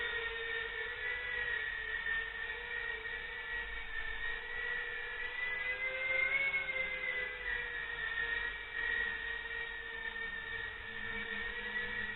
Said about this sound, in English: Quite a draft coming down from those propellers.